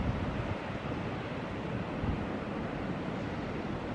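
Rough sea surf at Shaldon on the Devon coast, with the tide running out, gives a steady, loud wash of churning, splashing water and wind noise that carries on unbroken for the whole stretch, with no voices over it.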